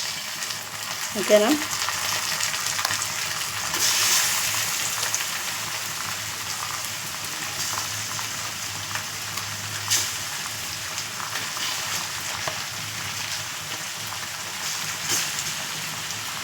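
Fish pieces and a fish head sizzle and crackle steadily in a pan of oil for a Telugu fish curry, with one sharper burst early on. A voice speaks briefly.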